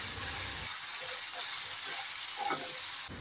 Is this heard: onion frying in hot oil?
yes